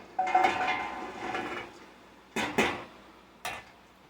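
Cayenne peppers, about two pounds with caps removed and rinsed, drop into a metal stock pot, a scattered clatter of knocks followed by two sharp thuds and one last bump, close and alone.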